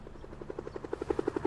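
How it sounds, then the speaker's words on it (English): A helicopter in the video game Tchia gives off a rapid, even rotor chop, faint at first and pulsing louder over a low engine hum. "Wait, helicopter?"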